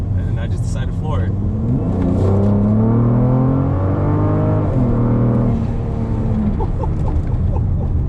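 A Volvo S60 T6, a tuned Stage 2 P3 car, accelerates at full throttle from about 20 mph, its engine note rising steadily and loudly inside the cabin with a rushing drone.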